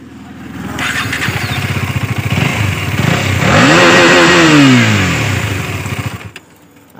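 A KTM Duke 250 BS6 motorcycle engine idles close by with a steady low pulse, then revs up in a rising and falling sweep around the middle before settling back and cutting off near the end, with no talk over it.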